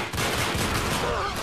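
Rapid automatic gunfire in an Uncharted 3 free-for-all multiplayer match, a dense continuous burst of shots lasting just over a second, loud and close.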